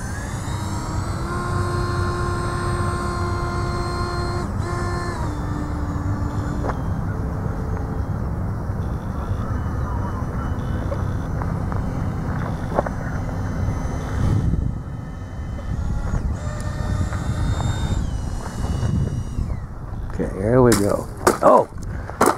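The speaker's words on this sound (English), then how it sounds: "Gear up. All right, we're going to skid her in." A Cub airplane comes in for a gear-up landing, its engine droning steadily and loudly, then rough scraping and clattering bursts near the end as it skids in, with someone talking over the engine.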